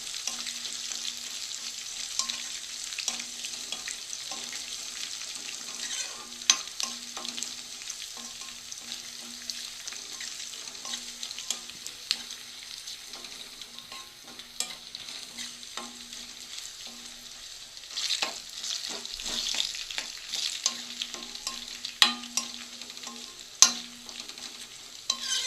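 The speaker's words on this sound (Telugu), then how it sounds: "ఎండుమిర్చి కూడా కొంచెం వేగనివ్వాలి." Cut dried red chillies fry in oil in a pan with a steady, soft sizzle, while a spoon stirs and scrapes the pan in irregular strokes throughout.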